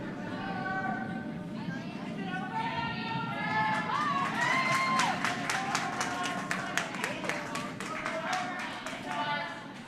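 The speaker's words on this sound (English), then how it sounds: "The applause in the horn room is from a team successfully completing a broom shooter" Applause in a curling club room for a team completing a broom shooter, a burst of clapping that builds in the middle and tapers off, mixed with chatter and background voices.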